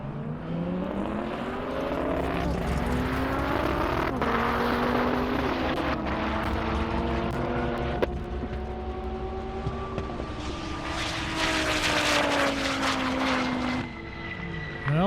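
Dodge Viper launching on an airstrip speed run: a loud engine revving through repeated rising gear pulls with shift breaks, the roar climbing and swelling nearer toward the end.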